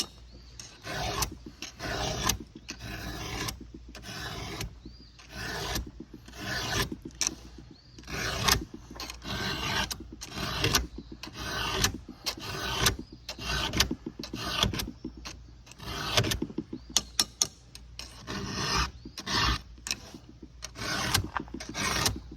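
Round hand file rasping across chainsaw chain teeth, a steady rhythm of short, close, gritty strokes repeating about every half second for the whole stretch, with no talk.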